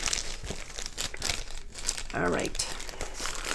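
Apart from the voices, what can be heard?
crinkling plastic bag while unboxing a Diamond Art Club kit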